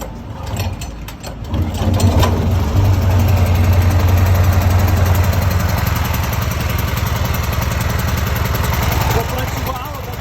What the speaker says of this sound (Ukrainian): Зараз вона вниз, бо ми включаємо генератор.